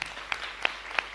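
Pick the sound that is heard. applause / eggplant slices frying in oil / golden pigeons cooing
applause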